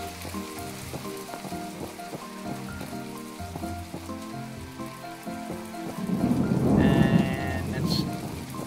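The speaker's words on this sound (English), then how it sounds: "It's just a rainy day" Steady rainfall patters in My Time At Portia, a soft continuous hiss under a plucked in-game melody, swelling into a louder rumbling wash near the end.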